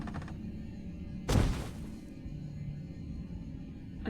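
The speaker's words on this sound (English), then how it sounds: "Like something heavy dropped to the ground." In the video game Spirit Hunter: NG, a single dull, heavy thud lands about a third of the way in, like a weighty object dropped onto the ground, set against a low, steady ambient hum.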